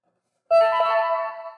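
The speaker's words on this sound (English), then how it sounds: "You hear him boot up" A Wall-E toy robot powers on with a sudden bright electronic startup tone that holds steady for about a second before fading slightly, loud and close.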